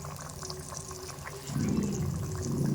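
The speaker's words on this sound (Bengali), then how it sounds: "ঝোলটা ফুটে গেছে এবার মাছগুলো দিয়ে দেবো" Hilsa fish pieces go into a boiling mustard curry broth; a soft bubbling wash of liquid swells louder partway through as the fish drops in, close and brief with no talk.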